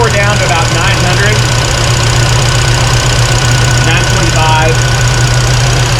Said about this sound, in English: So I'm gonna idle it down just a little bit